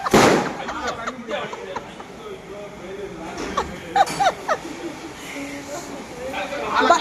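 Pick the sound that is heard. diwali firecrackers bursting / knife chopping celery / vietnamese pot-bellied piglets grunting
diwali firecrackers bursting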